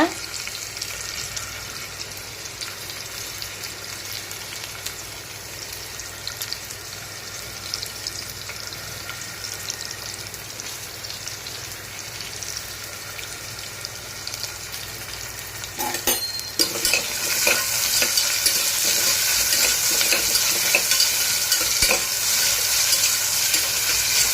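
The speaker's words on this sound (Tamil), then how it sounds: "ஸ்லைஸாக கட் பண்ணி வச்சுருக்கிற வெங்காயம் போட்டு நல்லா வதக்கி விடுங்க" Sliced onions with cardamom, bay leaf and other whole spices sautéing in ghee for one-pot ghee rice, a steady sizzle with stirring that grows louder and brighter in the last few seconds.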